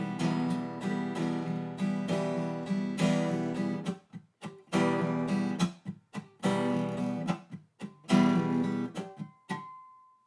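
Acoustic guitar strummed in a triplet-feel rhythmic pattern, bursts of chords with brief pauses and percussive slaps, ringing out to a single sustained note at the end.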